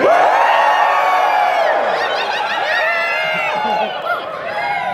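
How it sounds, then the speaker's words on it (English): An audience cheers on cue at a fan convention panel, a loud burst of overlapping voices, whoops and yells that swells at once and then tapers into mixed chatter and laughter. "at the count of 3, I want you guys to all cheer"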